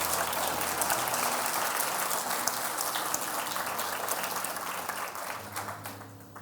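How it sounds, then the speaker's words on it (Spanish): A church congregation applauds loudly and steadily during a Spanish-language Christian sermon, a dense wash of clapping that fades slightly toward the end. "Apláudale fuerte al Señor."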